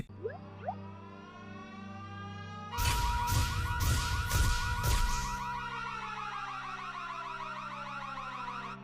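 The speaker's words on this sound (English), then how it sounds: "There's like a siren coming from a tower nearby." Tower alarm siren in the Sonic X cartoon: a steady, wailing electronic siren, with a loud stretch of rapid, sharp pulsing blasts in the middle before the siren settles back to a sustained tone.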